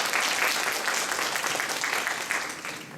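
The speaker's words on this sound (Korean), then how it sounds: "우리 박수로 해주시고요" Parents and teachers at a school meeting applaud a newly introduced teacher, a full, continuous round of clapping that fades slightly toward the end, with no talk over it.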